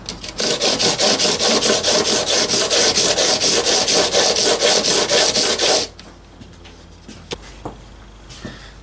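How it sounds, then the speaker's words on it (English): Loud, steady rhythmic rasping of sandpaper on wood at a 1980s Aria 12-string acoustic guitar during a truss rod repair, close and continuous for about six seconds, then stopping and leaving faint handling noises. "So just basically sand away until it looks pretty even."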